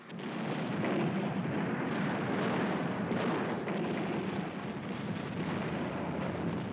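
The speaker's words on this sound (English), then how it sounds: "I saw the forward guns of the Atlanta swing out so rapidly and fire." Heavy naval guns aboard the USS Atlanta firing during a night battle off Guadalcanal, a continuous rolling roar of booms and blasts that stays loud and dense from start to finish with no voices.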